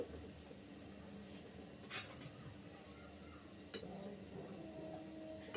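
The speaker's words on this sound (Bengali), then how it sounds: "এখন টাটকা করে আমি ভেজে নেব" Jhuri pitha fries in a pan with a soft, steady sizzle and hiss, faint and continuous, broken by a couple of light scrapes from a utensil.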